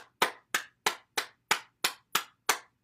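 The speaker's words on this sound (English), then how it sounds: "Clap our hands to stimulate the heart." Hands clapping during a morning bouncing exercise routine: eight crisp, evenly spaced claps close by, alone with no talk.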